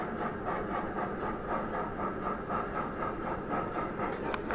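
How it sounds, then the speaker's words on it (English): Train ambience music recording themed on the Polar Express: a continuous rolling rumble with a soft rhythmic pulse, steady and full, running alone without talk. "Train ambience music,"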